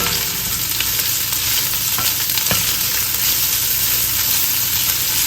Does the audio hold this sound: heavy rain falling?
no